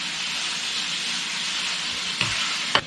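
Chopped onion hitting hot oil in a pan for Mexican rice, a bright continuous sizzle close by with a couple of sharp crackles and clatters near the end.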